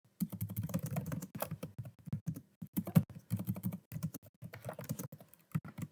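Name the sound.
typing a question on a keyboard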